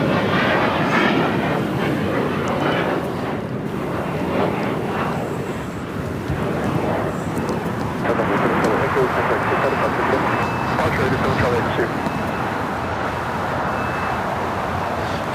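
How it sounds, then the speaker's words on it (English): A Boeing 787-8 Dreamliner jet airliner roars steadily near an airport runway, a broad continuous engine rumble with a faint tonal whine, while people talk over it throughout. "You're looking at On the Pond Airways Flight 180 heading to Mexico City in a 787-8 Dreamliner"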